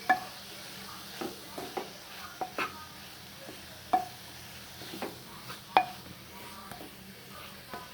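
A spatula scrapes and stirs grated carrot halwa cooking in a pan, with about ten irregular, close scraping strokes over a soft, continuous sizzle.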